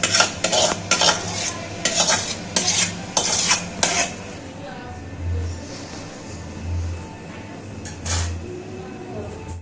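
A spoon clatters and scrapes against a pan while stirring Bengali-style duck egg curry with potatoes, with rapid repeated knocks for several seconds and then quieter bubbling and scraping close by.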